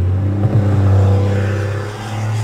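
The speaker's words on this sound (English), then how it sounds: "Sound of that engine." Steady car engine rumble held at high revs, loud and close, with a slight surge near the start and continuing without speech.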